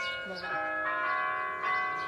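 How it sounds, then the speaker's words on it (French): Carillon bells ring out in a village square in Fief, sustained bell tones layering into a bright chord with several strikes overlapping, fairly loud and steady throughout. "Mais ici à Fief, on vient écouter le carillon."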